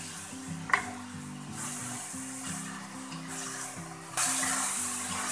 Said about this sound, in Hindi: अच्छे से भून लेंगे।